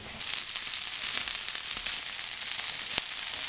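Zucchini strips sear and char in a hot pan with a loud, bright, continuous sizzle, marked by a sharp clack near the end as they are flipped.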